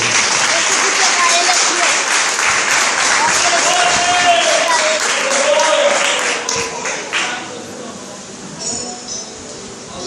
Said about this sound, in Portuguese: Dá uma salva de palmas para o nosso Senhor.